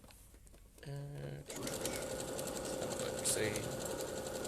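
A sewing machine stitches pineapple quilt blocks. A voice speaks briefly at first, then the motor starts and runs in a steady, close, continuous whir of needle strokes to the end.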